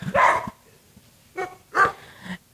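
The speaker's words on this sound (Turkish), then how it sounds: "Burada toplamda 186 tane köpek var ve hepsi de kaderine terk edilmiş durumda" Abandoned dogs at a shelter bark in a few separate bursts, fairly close, with short quiet gaps between them and no talking.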